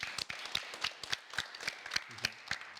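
Audience applause at a Russian talk show with a young entrepreneur as guest, a steady patter of many hands clapping across the whole stretch, moderately loud and without speech.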